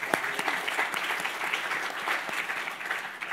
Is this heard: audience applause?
yes